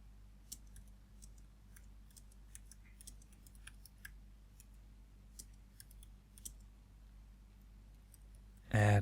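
Short bursts of quiet computer keyboard typing as a code comment goes into a JavaScript program, faint keystroke clicks over a low hum.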